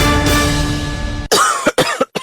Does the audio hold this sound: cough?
yes